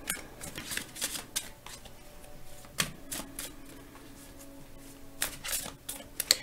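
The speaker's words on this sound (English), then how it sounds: "I always shuffle until I get a tingling sensation in my heart or until cards fly out" Tarot cards are shuffled by hand in soft, irregular bursts of riffling and tapping, quiet and close, with brief pauses between handfuls.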